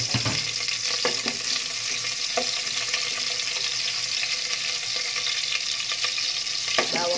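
Garlic and onion sauté in a pan for pansit bihon, a continuous bright sizzle with scattered pops and the clink of a spatula stirring now and then.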